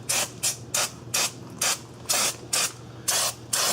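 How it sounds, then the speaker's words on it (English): Brake cleaner sprays onto the rear drum brakes of a Ford Escape in nine short hissing bursts, each about a quarter second long, evenly paced and close up, with no talk. "So I'm going to take some brake clean. Just going to kind of clean this stuff up in here."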